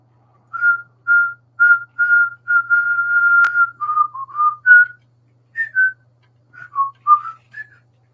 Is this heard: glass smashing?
no